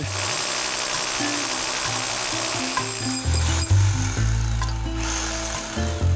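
A power drill grinds steadily through a stone cabin wall with low, stepped droning pulses and gritty scraping, shifting in pitch as it bites through hard stone, close and loud.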